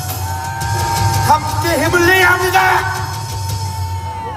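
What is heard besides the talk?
rally crowd cheering and applauding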